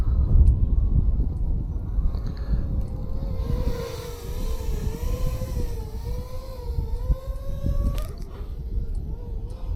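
Homemade FPV drone flying in acro mode: a steady buzzing whine from its motors that rises and falls in pitch, mixed with strong wind rumble on the microphone over about ten seconds.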